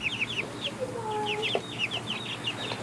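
Baby chicks and chickens clucking and peeping in a new farm coop, a steady stream of small chirps and clucks over constant background noise, with a brief faint voice.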